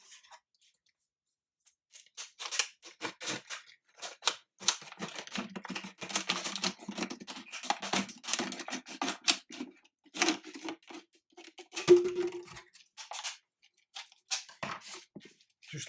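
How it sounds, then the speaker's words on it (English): Repeated sharp snipping and crunching of scissors cutting around a plastic bottle, a steady run of close cuts with short pauses, no voices. "then use a pair of scissors to snip all the way around"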